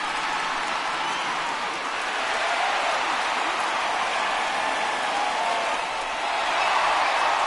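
A simulated baseball stadium crowd in MLB The Show 19 produces a steady, rushing wash of applause and murmuring noise, swelling slightly toward the end.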